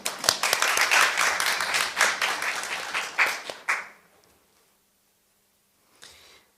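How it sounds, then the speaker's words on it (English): Audience applause welcomes the EU Ambassador to the Republic of Korea at an official event, dense clapping for nearly four seconds that fades out, then a brief faint burst near the end. "please welcome Her Excellency Ambassador María Castillo FERNÁNDEZ with a warm round of applause"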